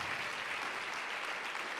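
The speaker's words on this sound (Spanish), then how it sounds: "Dale un aplauso al Señor" A church congregation applauds, a dense, even roar of many clapping hands sustained at moderate level without pause, with no voices standing out.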